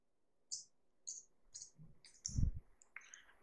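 Quiet computer keyboard typing a short word, several separate light key clicks spaced unevenly, ending with a slightly louder keystroke, close by with no talking.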